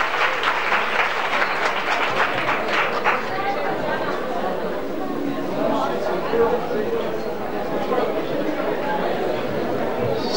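A crowd at a village association evening claps and chatters, the applause loud at first then thinning into murmuring voices and scattered claps over a rumbling room.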